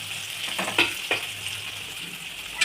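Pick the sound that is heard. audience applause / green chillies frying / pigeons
green chillies frying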